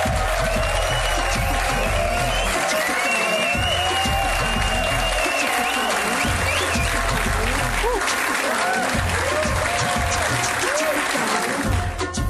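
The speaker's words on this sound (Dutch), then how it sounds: "Geef ze een applaus." Audience applause rolls on steadily and densely for about twelve seconds, with voices and other sounds mixed through it.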